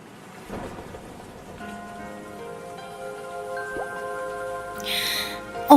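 Rain falls in Kaohsiung with a steady, soft patter, and a low rumble of thunder rolls underneath, building slightly toward the end with no one speaking.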